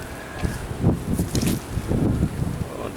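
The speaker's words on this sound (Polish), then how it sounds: "nie ma, jest za duży wiatr." Strong, gusty wind buffets the microphone in uneven rushes beside beehives, with rustling noise rising and falling throughout.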